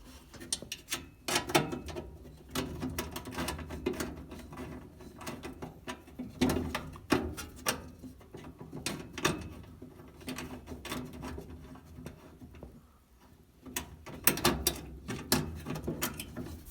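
Socket wrench twisting screws off a GE gas dryer, close-up clicking ratchet strokes and metallic rattles in irregular bursts, fairly quiet.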